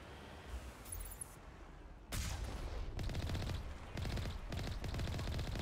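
Rapid gunfire bursts from the video game Mass Effect Legendary Edition, loud and sustained after a quieter opening, with repeated volleys close together and no talking.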